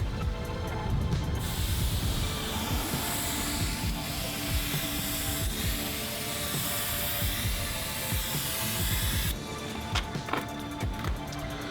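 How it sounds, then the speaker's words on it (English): Aerosol spray paint can hissing continuously as a line is sprayed onto a wall, a steady broadband rush lasting most of the clip with brief gaps and can handling at the start and end. "I'm going to start to move my hand from side to side to give you the idea of what it looks like when the spray is not going directly at the wall"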